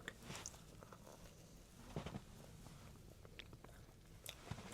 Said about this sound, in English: you've got a crunch from the brown sugar that's on top of that